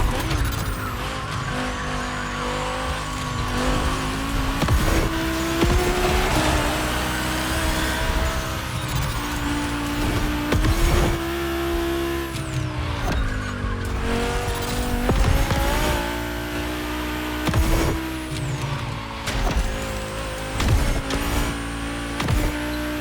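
Volkswagen race cars in The Crew Motorfest roar around a track, their engines loud and continuous with rising and falling revs, tire squeal and skidding mixed in throughout.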